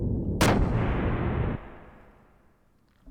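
A ship's cannon fires in the Xenogears video game: one sharp, loud boom that rolls into a long rumbling decay, with no voices.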